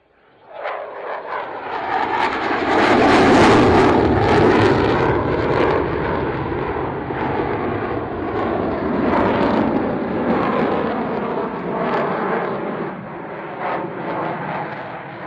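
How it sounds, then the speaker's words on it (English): An F-16 fighter jet at an airshow performing a barrel roll, its engine swelling to a loud, sustained roar that stays strong before easing slightly, with no talk over it. "F-16 is going to perform you a barrel roll."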